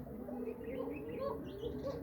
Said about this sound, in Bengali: সব কবুতর দেখুন